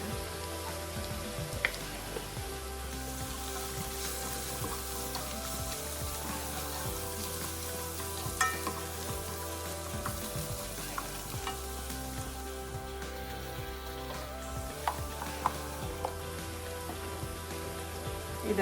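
Chicken curry with turmeric and masala fries in a pan, giving a steady, dense sizzle like rain on a surface, with occasional clinks of a utensil and no talking.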